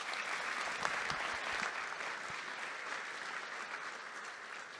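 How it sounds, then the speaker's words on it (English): A breakfast event audience applauding, sustained dense clapping from a crowd at moderate distance, steady for several seconds and slowly tapering. "Please, can we do one last round of applause to everyone in here and all of our sponsors?"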